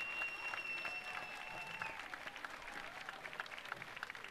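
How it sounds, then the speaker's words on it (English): Outdoor crowd applause at a Fourth of July Independence Day parade in Wakefield, steady and sustained from many spectators, with faint whistles and tonal sounds drifting over the clapping. "give them a round of applause for all the hard work that they've been doing year-round"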